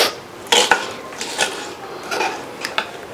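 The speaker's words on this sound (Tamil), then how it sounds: "வெங்காயம் கட் பண்ணிக்கலாமா?" Knife chopping onions on a board for a curry in a home kitchen, a handful of sharp, irregular chops and clinks spread across a few seconds, close and fairly loud with no talk.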